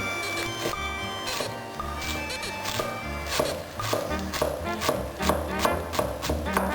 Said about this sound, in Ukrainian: Останній штрих ріжу кріп, петрушку і зелену цибулю.